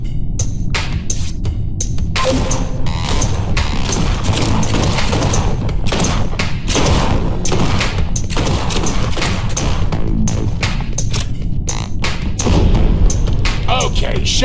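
Heavy shots from a sniper rifle crack and boom in the PC shooter G2 Fighter, loud and repeated in quick succession amid other weapon fire and thuds, with a voice speaking intermittently underneath.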